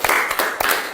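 A group claps the 'tepuk salut' in a quick patterned rhythm, loud and close, with three or four sharp clap bursts inside a second.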